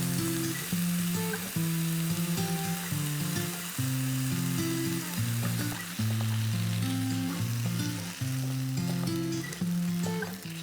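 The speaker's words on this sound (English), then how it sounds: "I'm going to go ahead and add the cheese into it" Vegan cheese added to bright vegetables sizzling and frying in a pan, a continuous crackling hiss with rhythmic stirring scrapes, close and without speech.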